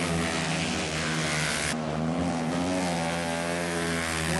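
Vintage racing motorcycle on a half-mile dirt track at Davenport, a loud buzzing engine roar that shifts in pitch as the bike passes close by, alone without talk.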